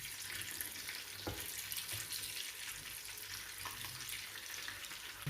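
Peshawari chapli kebabs frying in a pan of oil, a soft, even sizzle and hiss with a few faint knocks of a utensil, fairly quiet and steady, no voices.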